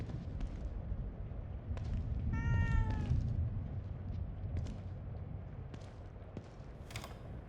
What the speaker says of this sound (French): Un chat? Je me rappelle pas avoir jamais eu de chat.